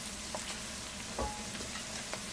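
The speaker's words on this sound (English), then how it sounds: "Here we'll add a little bit of green onion, not too much, to fry up in the hot oil with the garlic and onion." Green onion, garlic and onion frying in hot oil for a Guyanese hassar curry, a steady close sizzle with a few soft stirring knocks and no talk.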